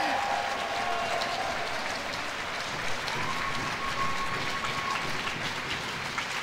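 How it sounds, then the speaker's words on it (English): A large crowd cheers and applauds steadily after a UCI Hour Record cycling ride. The continuous, moderately loud celebration noise fills the whole stretch. "It's straight into the celebration with everybody. Obviously, there's a huge crowd around her"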